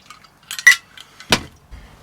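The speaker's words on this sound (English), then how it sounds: "So we'll put it into a martini glass." A Mary Pickford cocktail strained into a martini glass, heard as a few light glass clinks and taps, close and sharp, with short pauses between them and no talking.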